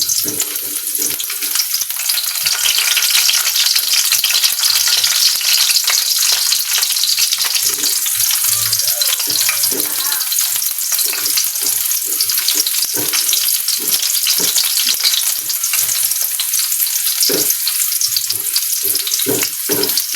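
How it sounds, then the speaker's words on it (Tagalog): Fish being sautéed in a pan for homemade sardines, a dense continuous sizzle and crackle of hot oil with occasional stirring, close and fairly loud with no talking. "Tayo po magigisan ng ating pang lagay sa ating pinalambot na isda."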